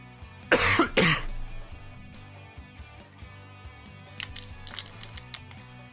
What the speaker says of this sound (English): it's because I'm still coughing a lot